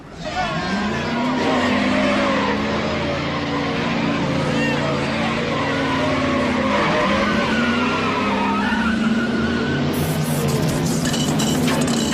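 Race cars skid in a movie scene, a sustained loud screech of tires and roaring engines running for several seconds, with voices heard over the racing noise.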